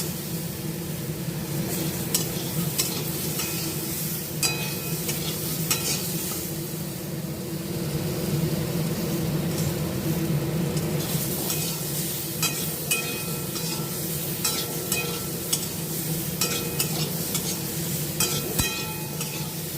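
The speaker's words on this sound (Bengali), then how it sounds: "দিয়ে দিলাম সামান্য নুন আর হলুদ দিয়ে ভালো করে কষাবো" Spices sautéing with a little salt and turmeric in a pan, a steady sizzle with repeated scraping and clinking of a spatula stirring, close and moderately loud, with no talk.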